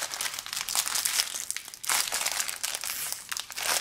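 Close crinkling and rustling of thin plastic, with sharp tearing bursts, as a small parts bag holding little pins is pulled and ripped open in fits over a few seconds.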